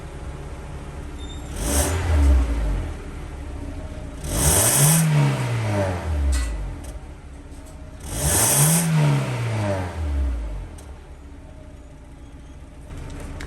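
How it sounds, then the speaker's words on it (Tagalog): A Honda Civic engine revs up three times through its stock BTI muffler, each rise and fall distinct, with quieter idling between; a moderately loud, mellow exhaust tone, no voices. "So yan, pakinggan natin yung tunog ng stock na muffler."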